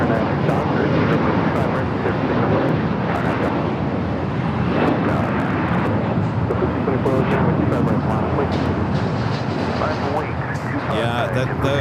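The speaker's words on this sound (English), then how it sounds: "There at the west gate is the Lufthansa Queen and making its way over here to the south side." Steady, loud roar of a Lufthansa airliner moving along the ground toward the south side of LAX airport, a continuous jet engine rumble that fills the whole stretch with only slight changes in level.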